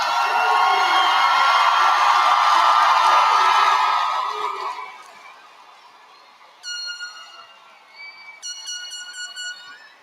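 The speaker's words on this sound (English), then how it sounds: "stand up and give them a well-deserved applause" Graduation crowd at a Southern University Law Center spring commencement bursts into loud, dense applause and cheering for about five seconds before it fades, followed by a few short, bright horn-like blasts near the end.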